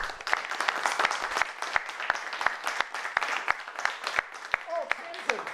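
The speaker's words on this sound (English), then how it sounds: "I think we need to give them a round of applause" A round of applause for hackathon teams at an IoT hackathon winners event, dense steady clapping from a crowd filling the room, with a few sharper nearby claps standing out and voices faintly mixed in.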